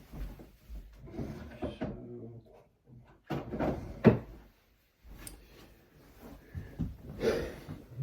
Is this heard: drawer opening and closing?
yes